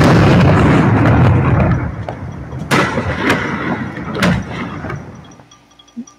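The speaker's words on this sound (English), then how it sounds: "That sounds like cannons going off. Fireworks in Carver Shores." Fireworks boom repeatedly over Carver Shores, several sharp bangs with rumbling echoes, the first heavy and dense, later blasts more spaced and distant.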